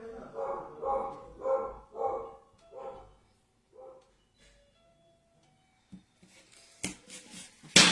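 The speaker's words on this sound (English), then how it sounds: "It's the neighbor's dog." A neighbor's dog barks outside in a rhythmic series of about six loud, evenly spaced barks, then falls quiet before scattered faint handling noises.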